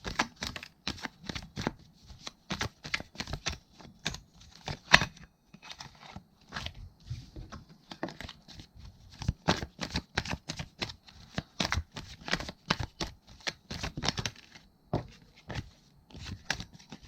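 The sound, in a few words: shuffling tarot cards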